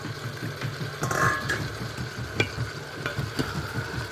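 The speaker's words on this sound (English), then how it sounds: "Give that another stir again." Bean stew with sweet potato and roughly chopped carrots stirred in an Instant Pot, soft scraping strokes over a low bubbling sizzle, close and fairly quiet with no talking.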